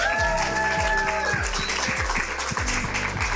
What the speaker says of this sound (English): everyone in the room, round of applause so the audience